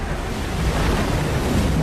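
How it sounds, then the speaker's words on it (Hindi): Surging flood water sound effect, a dense, loud, steady roar of waves and wind-like rush with no pauses or voices. "जिससे गर्म पानी की भयानक बाढ़ आ रही थी।"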